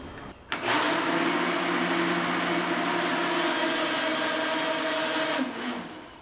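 A kitchen blender whirs steadily at high speed, mixing a thick fabric softener base, starting abruptly and running loud and constant for several seconds before spinning down.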